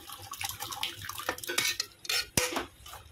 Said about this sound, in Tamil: கலந்து விட்டுக்கலாம்.